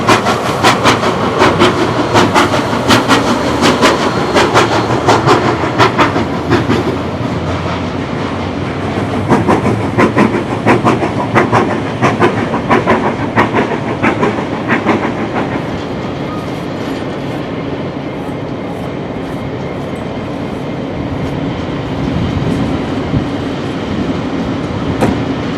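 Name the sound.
two locomotives hauling a train arriving at a station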